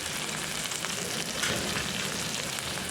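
Tomatoes and onions sauté in a hot pan, giving a dense, continuous sizzle and crackle close up, with faint stirring and no voices.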